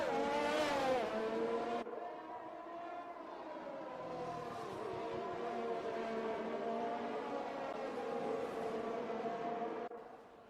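F1 2021 race cars at the Italian Grand Prix, their high-revving engines whining loudly with strong harmonic tones that rise and fall through gear changes as they pass close by, heard continuously without talk.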